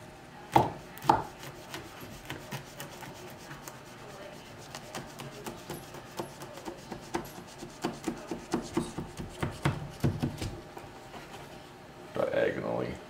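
A sharp knife cuts through baklava, giving a series of crisp crunching strokes that come quicker in the middle, heard close under a person talking.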